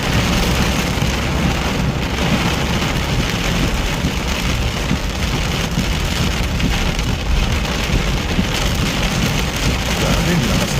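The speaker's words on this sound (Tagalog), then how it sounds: "Grabe, lakas ng ulan." Heavy rain pours onto a flooded street in Steinbach, Manitoba, a dense, unbroken roar of drops hitting water and pavement, loud and close throughout with no letup.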